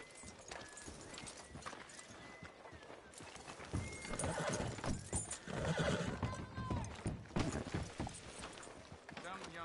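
Horse in a PS4 video game, hooves clip-clopping and a whinny heard close under ongoing character dialogue.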